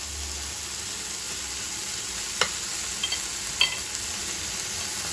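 Food sizzles steadily on an electric indoor grill pan, a constant close hiss broken by a few sharp taps and clicks of a utensil.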